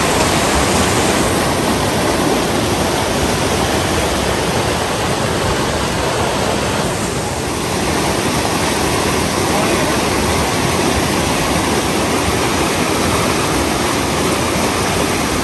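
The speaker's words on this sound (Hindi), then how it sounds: "और पानी का बहाव बहुत ही तेज" Fast-flowing river water in a swollen river, a loud, dense, continuous rushing roar like a waterfall filling the whole scene close up, with a very brief dip partway through.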